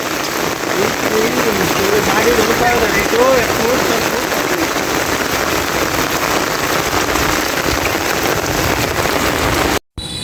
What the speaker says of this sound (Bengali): বৃষ্টি কমে গেছে